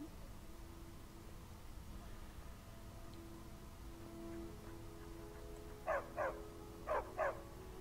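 Four short dog barks in two quick pairs near the end, after several seconds of quiet low background hum, in the video game Skyrim Special Edition.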